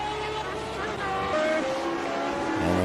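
A race car in a sim racing video game drones along with a rising and shifting engine whine, while a commentator talks over it throughout.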